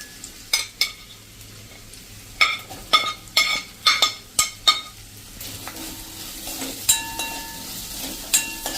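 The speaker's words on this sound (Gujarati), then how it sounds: "અને આપણે જે આ લીલા કાંદા સમાર્યા છે ને એને આપણે આમાં વઘારમાં નાખી દઈશું." Chopped green onions dropped into hot tempering oil with turmeric, giving a steady sizzle under a series of sharp metallic clinks and scrapes of a spoon stirring against the pan.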